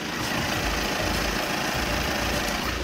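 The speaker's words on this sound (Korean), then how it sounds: "영상으로 엔진 소음 한번 담아보도록 하겠습니다" Audi New A6 diesel engine idling with the hood open, heard up close as a steady low rumble with a continuous clattery hum and no voices.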